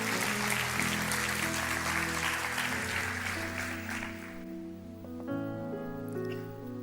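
A church congregation applauds in sustained, dense clapping over music with held keyboard chords, the clapping fading out after a few seconds while the music carries on.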